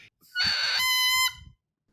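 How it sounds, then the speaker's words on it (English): A bagpipe double reed blown by itself gives one loud, harsh, buzzing squawk lasting about a second, changing pitch partway through, then sputtering out, with no other sound. "So this is the sound of the reed on its own."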